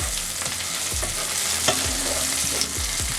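Olive oil sizzles in a pan as the base for a homemade Italian tomato sauce, a steady crackling hiss broken by several rhythmic scraping strokes of a utensil across the pan.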